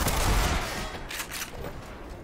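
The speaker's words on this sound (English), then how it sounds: "It looks like they're shooting at someone else." Gunfire in the video game Black Mesa: Blue Shift comes as a loud burst of rapid shots at the start, then fades into a decaying rumble.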